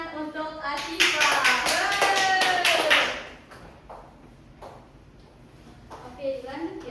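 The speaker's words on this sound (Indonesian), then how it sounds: "beri tepuk tangan untuk Asifa" Classroom clapping during a micro-teaching lesson, a burst of quick, close claps mixed with children's voices, fading after a few seconds into quieter scattered taps and a voice.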